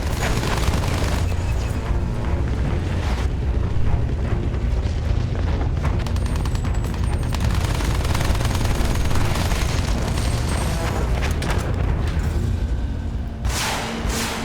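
Battlefield 1 trench warfare with enemy soldiers firing from the trenches: dense, continuous gunfire and heavy booming explosions rumble loudly throughout, with rapid crackling shots layered over the din.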